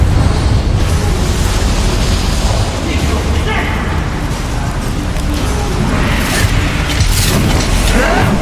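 Confringo explosive spell cast in Hogwarts Legacy, a loud sustained blast and crackling burst with debris-like clatter, dense and close, under a spoken voice.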